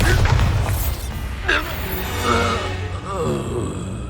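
Bombarda spell blasts in Hogwarts Legacy, with a booming explosion at the start followed by further crashing bursts and rumbling effects amid combat voice sounds.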